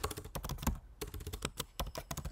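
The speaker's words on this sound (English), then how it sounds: "You just have to type git reset" A git command typed on a computer keyboard: a quick, irregular run of close, crisp key clicks with a short pause partway through and no talking.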